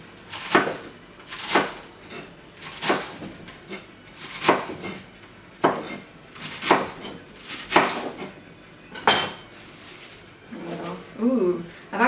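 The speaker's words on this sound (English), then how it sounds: "Cut the lettuce however you wish. Different people like it. I like it kind of thin," A knife chops lettuce thinly on a board for a chickpea Caesar salad, giving regular crisp cuts roughly once a second, close and clear, with a brief low voice near the end.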